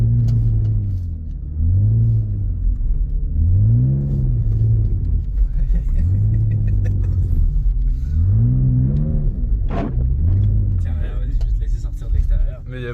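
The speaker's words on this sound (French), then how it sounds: "Je vais mettre en première vitesse." A 2006 BMW X3 e83 with the 3.0i petrol engine pulls away in first gear on a snowy road, its engine revving up and dropping repeatedly in close, loud surges while someone talks over it.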